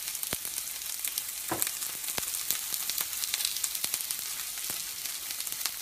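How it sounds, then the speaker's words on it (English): Onions sizzling and crackling steadily in a hot pan, with sharp pops and spits scattered across a constant frying hiss, close up and with no talking. "while my onions are frying"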